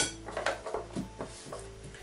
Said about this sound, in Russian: используя его, я довольно быстро нарезаю яблоко на довольно крупные квадраты